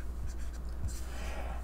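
A pen writes close by with soft, quick scratching strokes over a steady low hum, with no one speaking.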